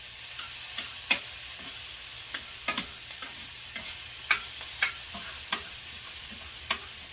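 Beef, onions and peppers fry in a pot for Guyanese cook-up rice, a steady crackling sizzle with scattered louder pops and stirring scrapes, close and continuous with no talking.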